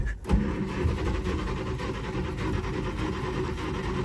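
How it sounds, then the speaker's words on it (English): A 1948 Studebaker Champion cranking on a 6-volt starter run at 12 volts, the engine catching and firing into a steady, rough, continuous running roar up close, with no talk over it. "You hear how the starter kind of runs away after the engine starts to fire?"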